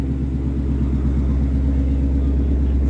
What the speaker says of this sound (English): It's got a great exhaust sound.